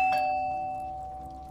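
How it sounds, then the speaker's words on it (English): A doorbell gives a single bright electronic ding in a television drama scene, its tone ringing on and slowly fading, with no talk. "Why did the person at the door ring the doorbell for all this time"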